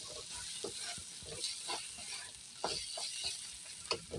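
Prawn heads with ground cumin-coriander paste sauté in a pan with a soft, continuous sizzle, broken by frequent light scrapes and clicks of a spoon stirring the curry.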